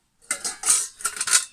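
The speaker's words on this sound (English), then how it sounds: "There's 2 pans in here that actually fold out." Stainless steel folding camping pans clank and scrape as they are handled, giving a few sharp metallic knocks close by with no talk.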